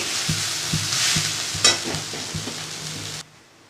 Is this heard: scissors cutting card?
no